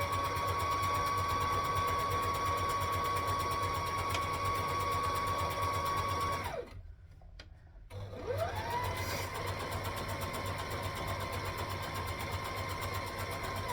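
A sewing machine runs steadily while stitching in the ditch along a skirt seam, with a constant mechanical hum and whine. It stops briefly in the middle and then starts again.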